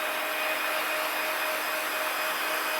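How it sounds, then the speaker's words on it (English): A handheld hair dryer runs steadily at close range, a constant airy whir with a faint motor tone, no breaks or voices. "checking the hairdryer on my hand"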